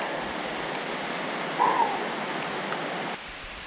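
Torrential rain pours down in a dense, steady roar that masks every other sound, close by and loud.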